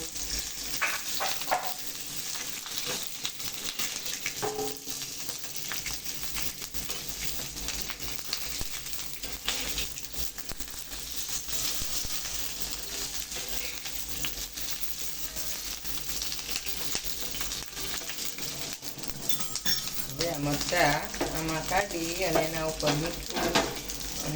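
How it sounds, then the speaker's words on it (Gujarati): Chili pieces fry in oil in a pan, a soft steady sizzle running under a voice talking, with occasional clinks and stirring scrapes, growing busier toward the end. "સેજ સેજ બધી બાજુ તેલ નાખી અને થોડી વાર આપણે મરચાં સાતરી લઈશું"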